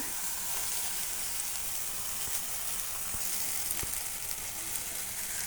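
Okra cooks with turmeric in a pan, a soft continuous sizzle with a few light scrapes and taps from stirring.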